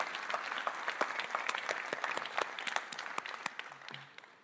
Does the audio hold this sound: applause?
yes